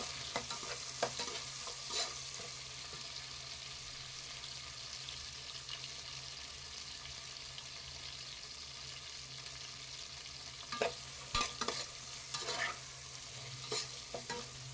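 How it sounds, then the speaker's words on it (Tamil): Tomatoes sautéing in a pan for sundakkai sambar, a soft continuous sizzle with occasional stirring scrapes and clinks near the end, fairly faint and close, no talk. "தக்காளியை நல்லா வதக்கிடுங்க"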